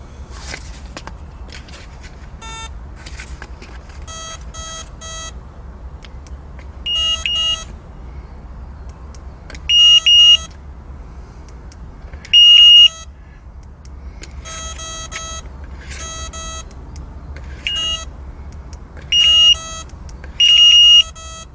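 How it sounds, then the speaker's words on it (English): Fishing bite alarm receiver emitting short electronic beep bursts at irregular intervals, some faint and some loud, as its volume settings are stepped through over a quiet background hum. "You can hear me actual receiver going there"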